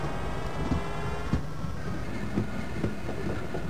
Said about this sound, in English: jump on the tram car and put it in reverse